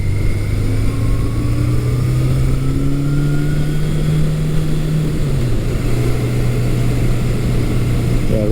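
A 1982 Suzuki GS750E four-cylinder motorcycle is ridden after electrical work, running roughly and not cleanly on all four cylinders, its steady engine drone holding one pitch and then dropping slightly under constant road and wind noise.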